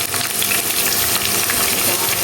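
Sliced bitter gourd and potatoes fry in hot oil in a home kitchen, a loud, busy sizzle with crackling spits and stirring clatter throughout, with no voices.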